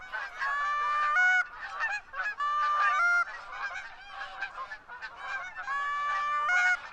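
A flock of geese honks continuously as it comes in to land during a goose hunt, with many overlapping calls in loud, steady waves and no talking.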